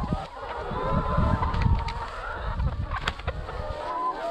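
A flock of pasture chickens clucks and murmurs near a water station on a farm, a continuous low chatter with a few sharper calls over rumbling outdoor background noise.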